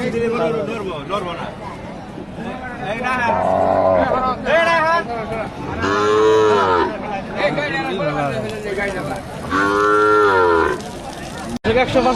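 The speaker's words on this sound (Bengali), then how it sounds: "হলিস্টিয়ান ফ্রিজিয়ান একটা বকনা দেখতেছি আমরা ভাই।" A Holstein Friesian heifer at a cattle market moos loudly and repeatedly in long drawn calls, with people talking and crowd chatter around it.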